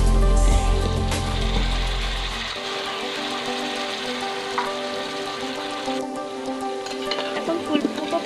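Cauliflower and potatoes sautéed in a pan for vegetable and chicken khichuri, giving a loud, steady sizzle that drops after a couple of seconds into lighter, continuous frying with occasional stirring scrapes.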